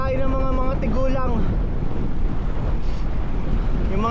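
Rushing wind blasts the microphone on a ride, a constant heavy low roar, with someone talking over it at the beginning and a brief voice again at the end.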